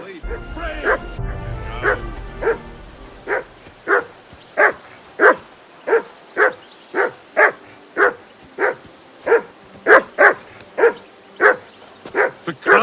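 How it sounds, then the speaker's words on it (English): A dog barks over and over in Kingdom Come Deliverance 2, loud and close, in a steady rhythm of about two barks per second, with a brief rumble and clatter at the start. "What's all the dog fuss about, Mutt?"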